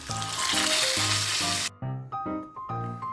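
Hot tempering poured into sweet pumpkin gojju lets out a loud, bright sizzle that cuts off abruptly, followed by a few rhythmic musical notes.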